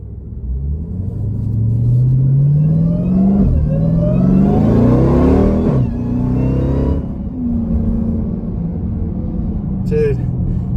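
A Jeep Trackhawk SUV accelerates hard with a deep, rising engine roar through several gear changes, loud and close from inside, while people talk over it.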